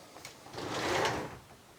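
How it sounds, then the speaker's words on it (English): An RV bathroom door slides and shuts in a large rental motorhome, a soft, muffled rolling thud lasting about a second, fairly quiet. "this door shuts to close all this stuff off if you want it to"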